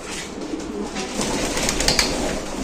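Faint cooing of Mundian pigeons sits under a loud, constant hiss, with a couple of light knocks toward the end.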